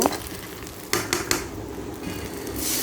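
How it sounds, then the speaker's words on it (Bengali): Tomato puree sautés in a pan with a soft continuous sizzle, punctuated by several sharp scrapes and taps of a spatula stirring close by. "তারপর টমেটো পিউরির কাঁচা গন্ধ যখন চলে যাবে ভালো করে কষানো হওয়ার পর"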